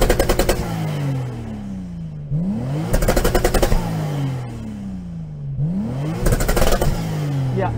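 A Toyota Supra TRD engine revs hard three times, each rev climbing quickly and bouncing off a hard limiter with a stuttering crackle before dropping back to a rumbling idle.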